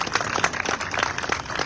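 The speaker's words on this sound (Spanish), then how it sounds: "les quiero pedir a todos un aplauso, por favor, a la maestra Elvira" Audience clapping for a teacher, Maestra Elvira, at a book presentation, a steady dense patter of hands at moderate distance with no voices over it.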